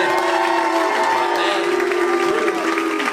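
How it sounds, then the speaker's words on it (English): Audience at a comedy show claps and cheers, a broad wash of applause with a voice talking over it and a sustained tonal sound running through. "Have a round of applause for him."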